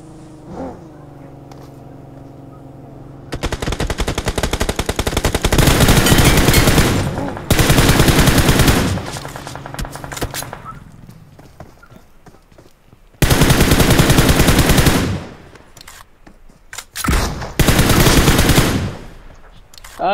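Video game gunfire, including a shotgun, in long loud automatic bursts that start and stop repeatedly, with brief quieter gaps between volleys.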